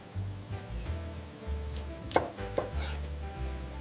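A knife slicing boiled pork belly on a board, two crisp cuts standing out close over a low steady hum, with no talking.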